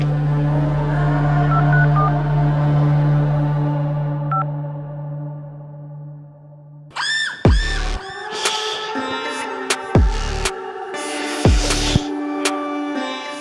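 A telephone number is dialed as a quick run of keypad tones. The tones come in the second half, after a steady hum. No one speaks.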